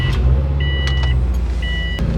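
A Subaru WRX's engine hums steadily from inside the cabin on a test drive, with faint whining and a few light clicks and thumps over the drone.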